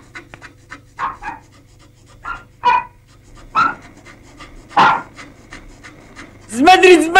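A small dog pants in short, breathy bursts spaced irregularly, close by, with a brief vocal sound near the end.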